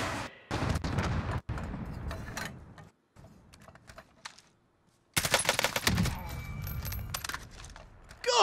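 Sniper rifle shots crack in the Call of Duty Warzone video game, several sharp bursts with brief quiet gaps between them, followed by a dense cluster of rapid loud gunfire near the end.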